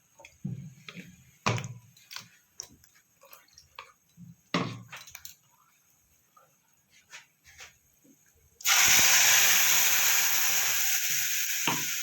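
Prepared masala paste for vegetarian Bengali aloo dum drops into a hot pan, with scattered clinks and stirring scrapes giving way to a loud, sustained hiss of sizzling that continues steadily to the end.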